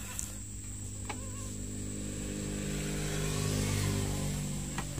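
A motorcycle engine runs at a steady idle during a clutch adjustment test, with a constant close mechanical drone and a high whine that swells slightly toward the end. Faint clicks break through now and then.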